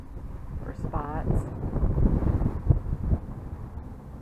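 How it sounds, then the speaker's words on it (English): Strong wind buffets the microphone at a KOA campground with pull-through sites in Mitchell, South Dakota, a continuous low roaring rumble with gusty swells, and a voice talks briefly over it. "It's windy here, really windy"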